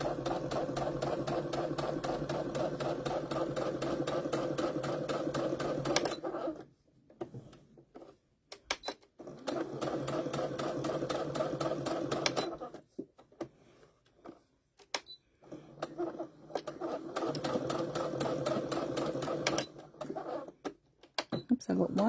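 A home sewing machine stitching a fabric mug cozy runs in long, steady close bursts separated by brief pauses, its rapid mechanical chatter broken by short clicks and handling noises.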